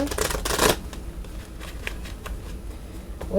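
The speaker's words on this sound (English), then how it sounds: "shuffle the cards" Oracle cards are shuffled close up, a quick riffling burst followed by softer sliding and tapping of the deck.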